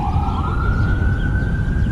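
A loud, steady electronic ambulance siren wails continuously at close range, its pitch gliding slowly upward, with a low rumble of traffic underneath and no talking.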